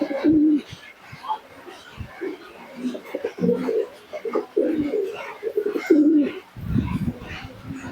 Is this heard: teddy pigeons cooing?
yes